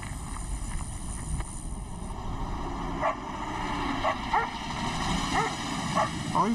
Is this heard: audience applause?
no